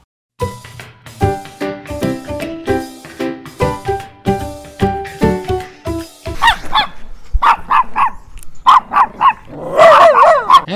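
A Kuvasz, a Hungarian shepherd dog, barks in a long rapid series close by, then breaks into higher, sharper yips and whining barks near the end.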